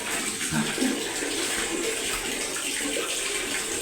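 Legs scrubbed with papaya soap under running water while bathing, a steady close splashing and water flow with brief faint voice sounds.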